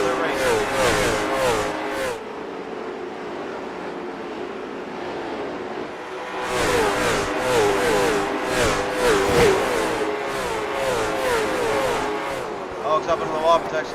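Race car engines rev and roar past at Nashville Fairgrounds Speedway, bursts of loud, rising engine noise at the start and again from the middle on, with a quieter steady hum between and a commentator talking over it.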